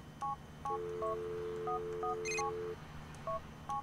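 Phone dialing in GTA IV, a series of short DTMF keypad tones with one longer sustained tone in between, clear and alone over faint background hum.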